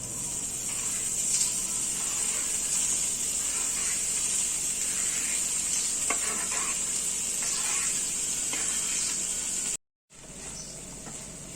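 Paneer cubes hit a hot pan and sizzle, a broad steady hiss with occasional stirring scrapes, cut by a brief silent gap near the end before the sizzle resumes.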